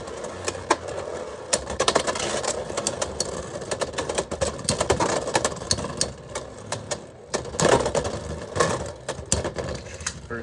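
Beyblade tops Rhino Horn and Phoenix Wing clash in a stadium with a steady, buzzing whir of spinning metal, broken by frequent sharp ticks and clacks of collisions, loud and close throughout.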